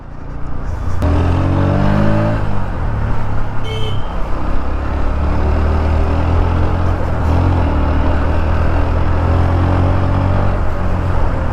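Motorcycle pulling away hard, its revving engine rising steadily and strongly, then holding a loud, continuous drone amid road noise and faint traffic horns.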